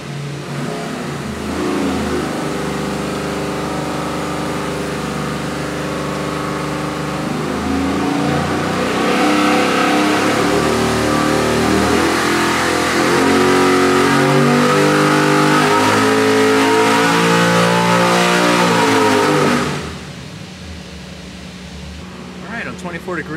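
A 441 cubic inch LS3 with 12.0:1 compression runs on a dyno, a loud, close engine holding a long sustained pull with rising revving tones before cutting off abruptly, a voice briefly audible near the end.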